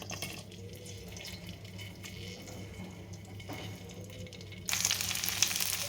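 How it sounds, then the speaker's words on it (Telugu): Okra pieces dropped into hot oil in a pan for an oilcake spice fry, a steady low sizzle that surges into a louder, brighter hiss near the end, close up with no talking. "ఇప్పుడు ఈ బెండకాయల్ని మెల్లిగా వేసుకోవాలి."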